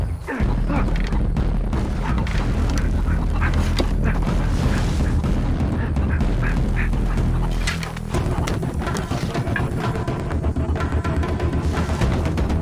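Chickens cluck in the Far Cry 3 video game, sounding bird-like amid a loud, dense mix of game audio and low rumbling booms that runs throughout.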